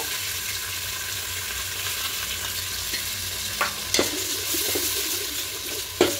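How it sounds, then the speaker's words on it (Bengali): Onion paste and ginger-garlic paste fry in hot oil for a pepper chicken dish while a spoon stirs them, giving a steady close sizzle with a few louder scraping clatters near the end and no talk. "এবার খুব ভালো করে মিশিয়ে নেব। খুব ভালো করে কষিয়ে নিয়েছি।"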